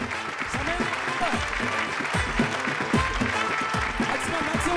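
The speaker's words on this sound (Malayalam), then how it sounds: "ആൾക്കാരുടെ കയ്യടി നിങ്ങളുടെ പ്രോത്സാഹനമാണ്" A TV game show studio audience applauds and cheers on contestants during a timed challenge. The clapping is dense and sustained, with an excited voice calling out over it.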